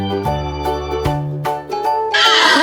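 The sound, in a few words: horse neighing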